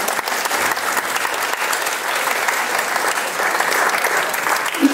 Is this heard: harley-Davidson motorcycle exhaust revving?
no